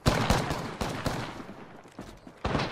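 Gunfire in the Apex Legends video game during a ranked match on PS4: bursts of close, loud shots with several sharp onsets, rapid volleys trailing into scattered shots.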